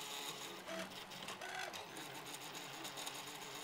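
A 3D printer fitted with a direct pellet extruder, a prototype, runs at 30 mm per second while printing a replacement part, giving a steady, close mechanical buzz and whir with fine stepping pulses throughout.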